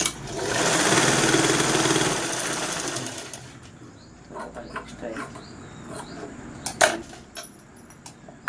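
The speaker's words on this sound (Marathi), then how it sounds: "आता इकडनं आपण हा पार्ट आहे तो स्टिच करूया" A sewing machine stitches a blouse in a loud, rapid mechanical whir that runs for about three seconds. Quieter clicks and handling noises follow.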